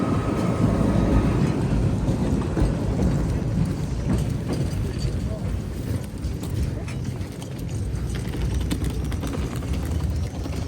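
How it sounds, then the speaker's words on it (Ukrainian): Steady rain hisses and patters throughout with a low, rumbling background at an outdoor flea market in Kryvyi Rih; a few faint distant voices occasionally mix in. "Друзі, розпочинається дощ."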